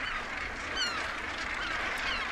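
A dense breeding colony of northern gannets, tens of thousands of birds packed closely together, gives off a continuous loud wash of overlapping harsh calls, with a few sharper cries standing out above the steady din.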